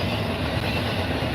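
A CSX freight train with vans up front rumbles past close by, a steady broadband roar of rolling cars with faint clickety-clack and no other sounds.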